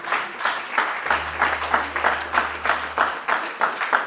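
A church congregation claps in a rhythmic, steady pattern of about two to three beats per second, moderately close, with a low sustained hum underneath partway through.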